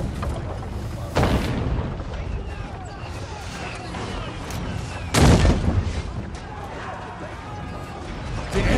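A siege assault on city gates in the video game Total War Troy, with a low rumbling battle din under a spoken voice, punctuated by two heavy booming impacts.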